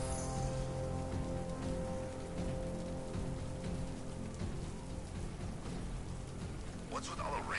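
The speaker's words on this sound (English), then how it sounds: "What's with all the rain?" Steady rainfall in a Batman video game played on PS4, a dense continuous downpour hissing across the whole clip with game music and voices underneath.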